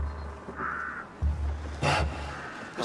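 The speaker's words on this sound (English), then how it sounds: "Hey! Crow! Anybody want to roast it for me?" Crows caw in the video game A Plague Tale: Requiem: a couple of short harsh calls stand out over a low ambient rumble, with a few muffled thuds between them and no speech.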